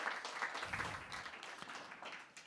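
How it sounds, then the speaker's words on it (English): A short burst of audience applause, many hands clapping at moderate distance, fading slightly at the end. "So just want to give a round of applause to Dimitri"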